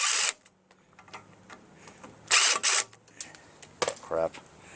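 A cordless power driver backs two Phillips screws out of the carburetor heater box on a Craftsman 522 snow blower with a Tecumseh engine, giving short close whirring bursts separated by quiet pauses and small clicks.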